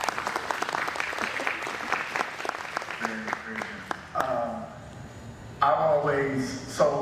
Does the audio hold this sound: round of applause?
yes